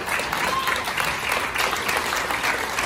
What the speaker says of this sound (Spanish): le damos un fuerte aplauso al grupo de la danza Nueva